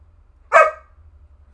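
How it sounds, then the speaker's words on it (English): A single sharp bark from a large, loud 60-pound puppy, close and alone in an otherwise quiet room. "We have a loud puppy"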